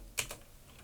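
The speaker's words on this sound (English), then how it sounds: "I go into search and I type in" Computer keyboard keys pressed on a Windows 10 laptop while typing a search, two quick crisp close keystrokes in a quiet room with no talking.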